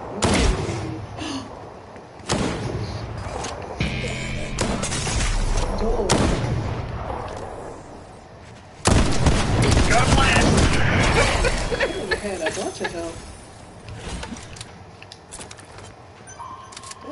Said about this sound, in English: I see a lot of gunfire over there.